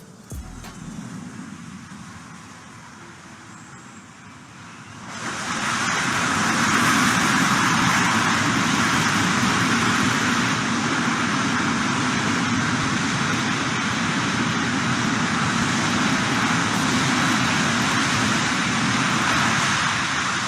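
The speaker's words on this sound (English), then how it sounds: "This plane came to a stop really fast using reverse thrust." An airliner rolls out after landing, its engines roaring in reverse thrust: a quieter rumble for about five seconds, then a sudden, sustained loud broadband roar that holds steady to the end, with no talking.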